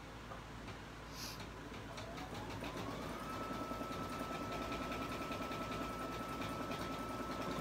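An embroidery machine stitching out small lettering, a faint steady mechanical whir with a fast rhythmic ticking of the needle throughout, no voices.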